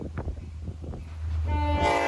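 A Long Island Rail Road diesel train rolls past with locomotive 505 trailing at the rear: a low rumble and clatter builds, then a loud sustained horn blast sounds near the end.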